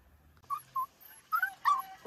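A small dog whimpers after falling into a water-filled ditch, giving short, high, plaintive yips in a quick series of four or five close cries against quiet surroundings.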